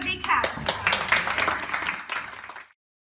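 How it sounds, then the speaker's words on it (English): A small group of people clapping for a patient at an acupuncture session, a brief burst of close applause mixed with some voices, fading out after about two and a half seconds. "she deserves a big clap"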